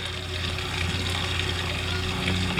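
Activated charcoal soap batter being mixed with a stick blender, a steady continuous whirring and churning that holds at an even level throughout with no talking.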